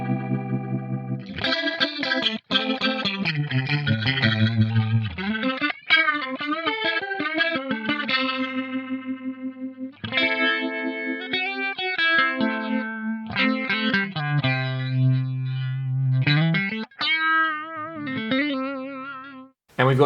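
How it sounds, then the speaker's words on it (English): Guitar run through a BOSS MD-500 rotary speaker effect on fast mode, warbling, rapidly swirling notes and chords with quick tremolo-like wobble, played alone with short pauses between phrases. "The rotary mode is really nice. We basically just have a fast and a slow setting."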